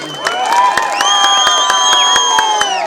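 A loud, dense crowd roars and cheers at a village election campaign rally, with sharp whistles and shouts over steady noise and a few hard, regular percussive hits cutting through.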